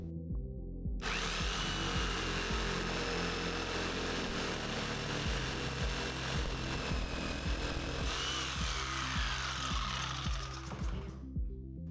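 A DeWalt XR cordless jigsaw starts up and makes test cuts, a loud, continuous buzzing, rapidly reciprocating whine with rhythmic blade chatter that runs nearly the whole time before cutting off abruptly.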